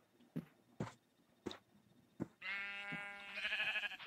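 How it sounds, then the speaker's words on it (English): Sheep bleats from the video game Minecraft, a sustained bleat following several faint clicks and footstep-like game sounds, fairly close and clear with no talk over it. "Is that a sheep?"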